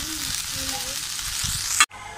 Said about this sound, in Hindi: भिंडी को लाइट ब्राउन होने तक या नरम होने तक इसको फ्राई कर लेंगे।